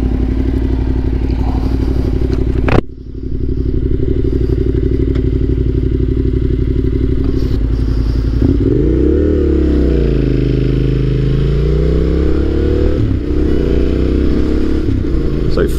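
A Yamaha Tenere 700 carrying a pillion passenger rumbles with a steady loud engine drone and wind buffeting, a sharp thump near the start and rising and falling engine pitch later.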